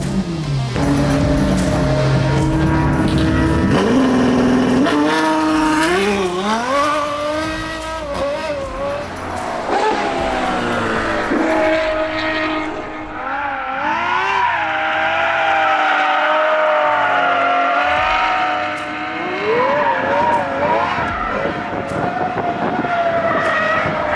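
Lamborghini Aventador race car driving laps on a track, its engine loud and close, revving up and down through gear changes with rising and falling pitch sweeps, continuous for the whole stretch with no talking.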